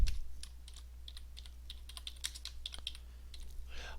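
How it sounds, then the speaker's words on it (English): Quiet keystrokes on a computer keyboard while testing a Windows Form, a short run of soft, irregular clicks over low electrical hum, no voices. "How about if we type AAA in here instead of a date?"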